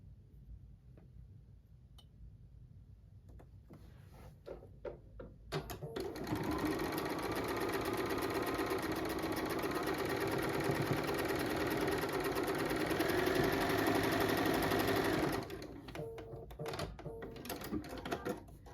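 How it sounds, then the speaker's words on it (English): A sewing machine runs in one continuous stretch of rapid stitching, joining quilt block pieces, starting abruptly after soft handling noises and stopping just as suddenly, with light clatter around it. "now I'm going to sew them together"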